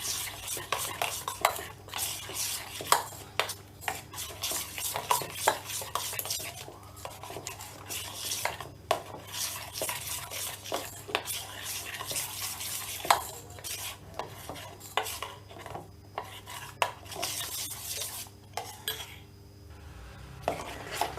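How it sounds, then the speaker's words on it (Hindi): Flour is stirred into a jaggery cake batter in a bowl, making a long run of quick, close scraping and clinking strokes of a spoon against the bowl that continue steadily throughout, with no talking. "तो हल्के से मिलाएं इसको अच्छे तरह से, जैसे गुठलियाँ ना रहे इसके अंदर।"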